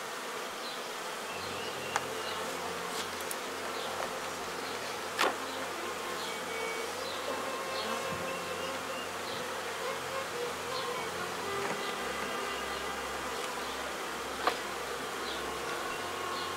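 Honey bees buzz at a hive in a dense, continuous hum, steady and moderately close, with a few faint clicks and taps scattered through and no talking.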